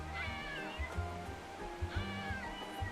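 A kitten meows repeatedly in Love and Deepspace, several short high cries in quick succession, close and clear with no talk over them.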